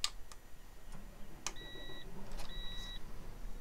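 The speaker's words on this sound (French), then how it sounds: "Le petit bip bip, bien sympathique." Startup beeps from a Claas Axion 950 tractor in Farming Simulator 2015: two short electronic tones in succession, moderately loud over a low idling hum, with a few faint clicks around them.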